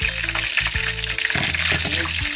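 Steady loud sizzling of chicken pieces frying in hot oil for Jamaican escovitch chicken, close and continuous with crackling bursts and low hum underneath.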